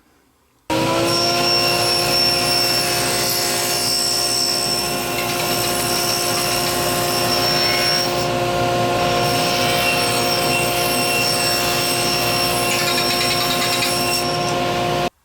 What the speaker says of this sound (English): need now to cut a rabbet in 1/4, and it will be 5/16 inch deep on the 1/2 inch side